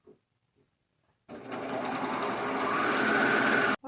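A sewing machine quickly stitching the curved center seam of jersey leggings, one steady close whir starting abruptly after near silence and stopping sharply.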